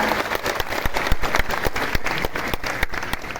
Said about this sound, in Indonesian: Tepuk tangan semuanya untuk Bapak Presiden kita.